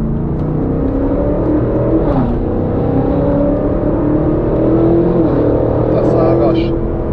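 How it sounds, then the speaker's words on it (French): A BMW M8 with a twin-turbo V8 pulls hard, its engine note rising steadily through a long, loud acceleration heard from inside the car, with a brief shift dip partway and faint squeaks near the end. "ça repart avec le V8 biturbo"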